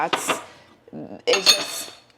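Dishes and cutlery clink and clatter in a few short bursts while a dishwasher is emptied nearby, with brief pauses between handfuls.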